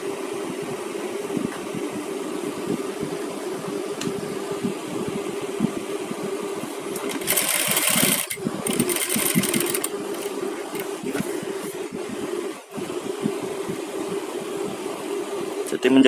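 Sewing machine stitching along the edge of a patch pocket, a steady close whirring motor hum that runs almost without pause, with a brief noisier stretch partway through.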